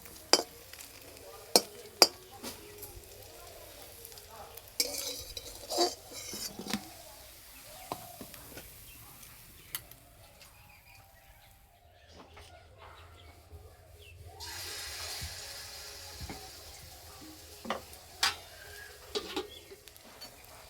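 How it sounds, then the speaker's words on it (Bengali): Chhana poa pitha fries in a pan with a faint, intermittent sizzle, broken by clattering knocks and handling noises, while birds chirp faintly in the background. "আর এইভাবে একটু লালচে করে ভেজে নিতে হবে।"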